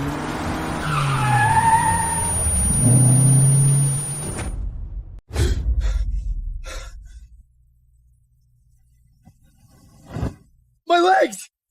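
A car's tires screech in a long skid during a crash in a short drama, loud and close, followed by a sudden cut and a few sharp impact hits, with voices heard before and after.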